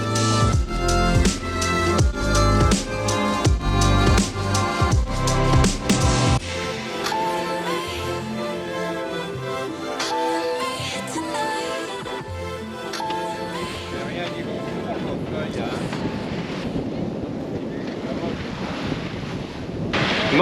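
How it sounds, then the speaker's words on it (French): Strong wind and breaking waves roar around a sailboat at sea in about 15 knots of breeze, loud gusty buffeting against the microphone with surging water beneath and occasional background voices. "le vent est remonté, il y a 15 nœuds de vent"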